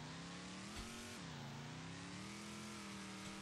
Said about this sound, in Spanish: A ver cómo se maneja este coche.